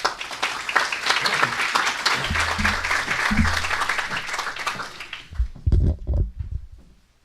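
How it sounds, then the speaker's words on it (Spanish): An audience at a lecture claps loudly and steadily, the applause swelling then fading out, with a few low murmurs and thumps near the end. "Un fuerte aplauso para nuestro señor decano."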